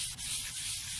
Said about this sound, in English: And keep sanding, get all the edges real good